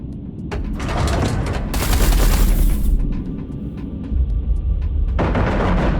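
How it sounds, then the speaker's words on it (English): Artillery fire pounding a carrier in the space combat game Everspace 2, with loud booms and rapid bursts of gunfire in dense volleys, a sustained barrage that pauses briefly and then resumes. "Eduardo, concentrate artillery fire on Blakemore's carrier"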